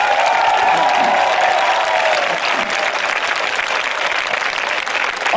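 Loud, continuous audience clapping at a promotion function, a full crowd applauding steadily with faint cheering, while a voice briefly carries over the start.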